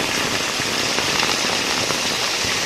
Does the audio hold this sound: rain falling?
yes